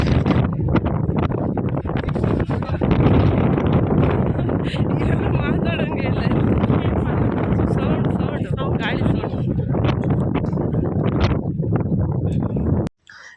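Strong wind blows at a hilltop fort, a steady roaring rush buffeting the microphone almost without pause until an abrupt cutoff near the end.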